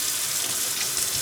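A kitchen tap runs into a tub, a steady close hiss of flowing water with no pauses, filling the whole short stretch alone.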